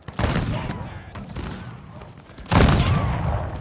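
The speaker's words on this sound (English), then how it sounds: "maybe they're just better at shooting than the foot infantry" Massed infantry volleys crackle through a Carlist Wars line battle in Total War, dense rolling musket fire that thins midway and then surges into a louder, closer burst of shots.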